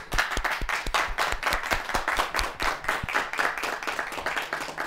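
A small audience after a scientific presentation on fluorescence thermometry claps for the presenter, with distinct individual hand claps sounding sharp and close in a brisk, uneven patter of moderate loudness.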